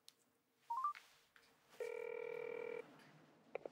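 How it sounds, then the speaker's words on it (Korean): A phone call reaching a voicemail greeting: a few short rising electronic tones, then a single steady beep lasting about a second, followed by quiet and a faint click. Soft and close, with no talking. "전화를 받지 않아 삐 소리 이후 음성"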